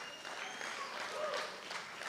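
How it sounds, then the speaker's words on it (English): Applause at a Sindhi wedding reception in a hotel ballroom, greeting a singer after his performance; steady, fairly quiet clapping fills the whole stretch without a break. "Give him a round of applause,"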